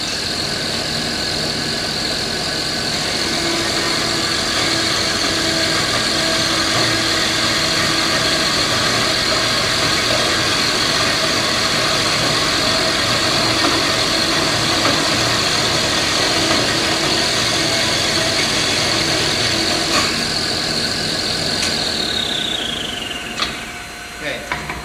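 A bandsaw slices through aluminum stock for a screwdriver blank with a loud, steady mechanical whine and hum, then winds down in pitch near the end as the blade slows.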